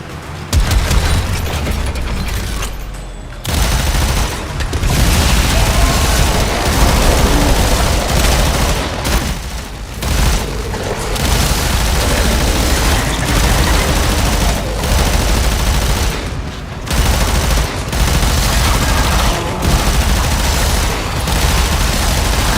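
Sustained gunfire in the video game Warframe, loud and nearly continuous bursts of shots and booms that fill the stretch, broken by a few short lulls.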